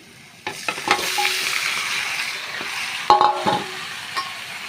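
Meat tipped into a pan of frying spiced masala with potatoes gives a steady close sizzle, broken by a few stirring scrapes and clunks of the spoon against the pan.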